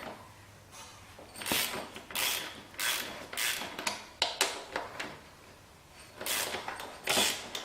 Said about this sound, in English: Loosen up those two pinch bolts as well.